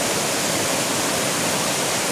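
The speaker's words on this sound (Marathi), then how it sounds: "जोरदार असं पाणी त्याचा प्रवाह तुम्ही बघत आहात" Strong torrent of water rushing down from the Konkan hills toward a river, a steady broadband roar filling the whole span, close and unbroken with no voices.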